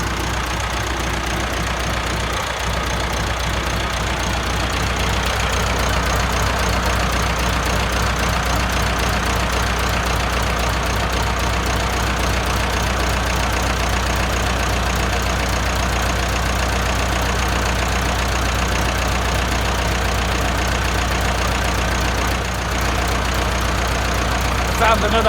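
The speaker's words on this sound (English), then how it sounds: "It's a tractor, it's noisy." A Volvo tractor engine runs at a steady idle for the whole stretch, a loud, even mechanical drone with a low rumble, heard up close in a workshop setting with no talking.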